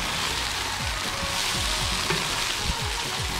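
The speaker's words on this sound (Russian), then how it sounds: "Теперь все это обжариваем тщательно." An eggplant mass fries in a kazan with a dense, even sizzle and crackle, close and loud, with rhythmic stirring scrapes repeating through it.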